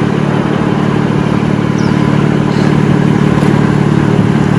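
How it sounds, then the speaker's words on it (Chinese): A BMW G80 M3 Competition with the M Performance exhaust idles steadily close by, a continuous deep rumble with no revs or voices. "那我们先听一下它 G8403 N Performance 排气管原厂的声浪"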